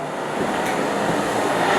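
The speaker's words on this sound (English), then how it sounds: "sorry about the noise, we got a heater" A heater runs with a steady, broadband whooshing hum that holds at an even level throughout, with no voices.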